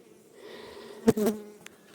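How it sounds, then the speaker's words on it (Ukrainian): Honeybees hum around at close range in spring, with a louder buzzing pass sweeping by near the middle of the clip. "дивіться, бджоли"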